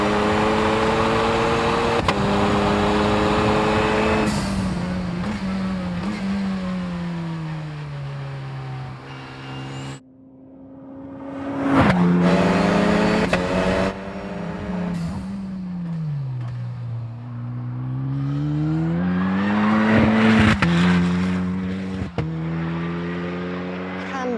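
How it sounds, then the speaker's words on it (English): Ariel Atom 4R with a 2-litre turbo engine on a fast track lap, its buzzing note rising and falling loudly through gear changes, with a brief lift off the throttle midway and steady acceleration afterward. "Slightly workmanlike note of that 2-litre turbo"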